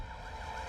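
An ambulance siren wails in a film scene, a steady faint tone under a low rumble of engine and background noise.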